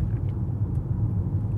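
Steady low rumble of a car driving slowly along a road ahead, continuous and fairly loud with no talking.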